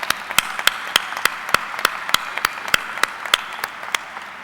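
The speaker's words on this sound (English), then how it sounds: "Give them another round of applause." A school choir and orchestra receive audience applause at the 2007 Farmington High School graduation: a steady roomful of clapping with sharp, distinct individual claps standing out at an uneven rhythm throughout.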